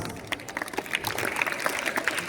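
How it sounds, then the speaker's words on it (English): Audience at a Grade 10 school performance of Julius Caesar claps steadily, a dense patter of many hands filling the room without other sounds. "Please welcome them with a big round of applause"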